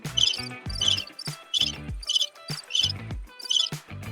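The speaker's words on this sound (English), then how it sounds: "Crickets happen." Crickets chirping as a sound effect, a series of about six repeated chirp bursts in a steady rhythm, moderately loud and close, with no talk.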